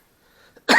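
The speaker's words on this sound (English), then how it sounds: "excuse the cough" A single harsh cough bursts out loud and close at the end, after a quiet room with faint background sound.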